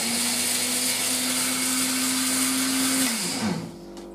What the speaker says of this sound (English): Get the crust, break it up, whack it in the blender